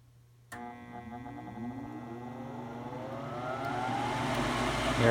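A Coleman gas furnace's inducer motor kicks on abruptly and labors to come up to speed, a close whirring hum rising slowly in pitch and growing louder over several seconds.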